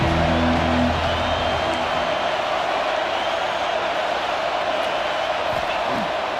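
Stadium crowd noise from the College Football 26 video game, a steady loud roar of a big crowd filling the whole stretch, with faint musical tones early on and no clear talk over it.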